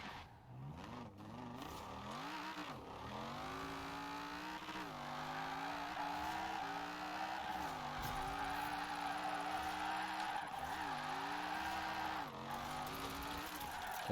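A car drifts on drag slick tyres in Forza Horizon 4, its engine revving up and down in long sweeping waves with continuous tyre skid and squeal, loud and sustained throughout.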